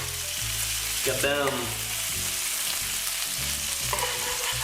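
Pancake and bacon sizzling together in a pan, a loud, close, continuous frying hiss with crackles, while a voice briefly calls out over it and a low hum runs beneath.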